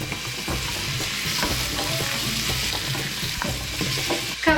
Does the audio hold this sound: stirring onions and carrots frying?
yes